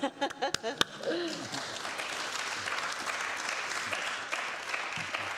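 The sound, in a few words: council chamber applause after a first speech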